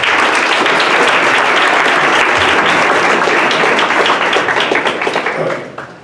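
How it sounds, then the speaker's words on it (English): A forum crowd on affordable housing gives loud, full applause that fills the room without a break, then fades quickly in the final half second. "Please, a round of applause."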